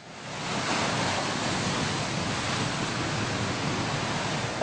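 Sea waves crash steadily along the Brazilian coast, where the ocean is advancing onto the shore. The surf makes a loud, continuous broadband roar with no pauses and no voices.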